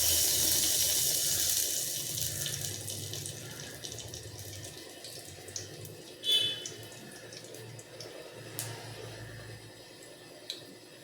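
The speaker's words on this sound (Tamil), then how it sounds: "எண்ணெய் சூடாகிடுச்சு பட்டை எல்லாத்தையும் போட்டுக்குவோம் சோம்பு கொஞ்சம் போட்டுக்குவோம்" Cinnamon and fennel seeds dropped into hot oil for a Chettinad-style country chicken soup, a faint steady hiss and crackle with a few soft pops and clinks.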